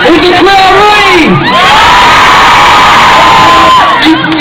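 Crowd of children cheering, whooping and shouting as a bike rider prepares to jump over them at a school bike assembly; loud, sustained excited screams fill the whole stretch, rising and falling in waves.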